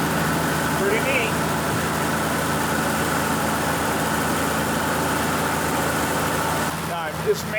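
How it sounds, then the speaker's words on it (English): A worn Minneapolis Moline G1000 tractor with a straight-pipe exhaust runs at a steady idle, a loud continuous low rumble close by that drops off briefly near the end, with a voice speaking over it. "I'm just amazed how quiet the motor, I mean, we got exhaust noise, but how quiet the motor itself is."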